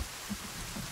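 Steady rain falls in the survival horror game Sons of the Forest, a soft continuous hiss with a couple of low dull patters, fairly quiet and without voices.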